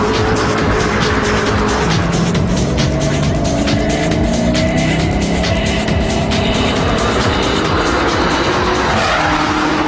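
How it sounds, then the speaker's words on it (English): A Ford GT40 super sports car drives hard with loud, continuous engine roar, shifting pitch and squealing tires, sounding close and dense throughout. "This is the GT40 Ford, which is my first super sports car I ever bought."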